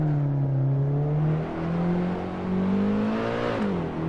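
Car engine in the Assetto Corsa racing game on PS4, a rear-wheel-drive car, droning steadily with shifting revs and a brief dip near the end, loud and continuous with no talk.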